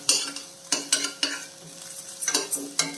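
Spoon stirring grated coconut with lentils frying in a pan for a kovakka dish, several sharp scraping strokes at uneven intervals over a soft sizzle, close and with no voices.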